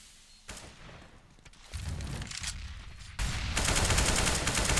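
Bursts of M4 rifle fire in a Counter-Strike match on the Cache map, with dense repeated shots that grow louder and heavier toward the end and no talk over them.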